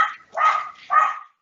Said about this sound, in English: I don't actually know if you can hear the barking,